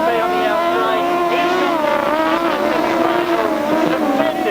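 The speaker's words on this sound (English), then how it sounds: "Terrific sidecar racing." 1000cc sidecar outfits racing on a grasstrack, engines screaming at high revs with rising and falling pitch as the machines pass close by, loud and continuous, with a commentator's voice underneath.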